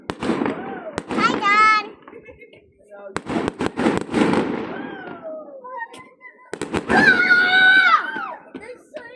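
Bonfire Night fireworks in the UK crack and burst in several bangs over about nine seconds. Whistling, screeching rockets rise between the blasts, and someone speaks and exclaims over them.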